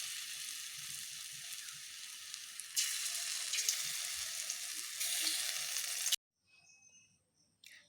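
Pumpkin seeds frying in hot oil give a steady, close sizzle that grows louder partway through, then cuts out abruptly and is followed by quiet with a few faint stirring sounds.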